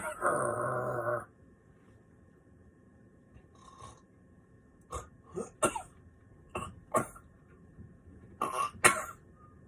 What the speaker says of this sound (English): That felt like a cough or something happening in reverse.